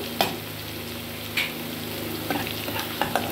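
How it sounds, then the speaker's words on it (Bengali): Masala with salt, turmeric and Kashmiri chilli powder stirred and fried in a pan, a low steady sizzle broken by a few sharp spatula scrapes and clicks, quiet and close with no talking. "এবার এটাকে একটু কিছুক্ষণ নাড়াচাড়া করে হালকা কষিয়ে নেব।"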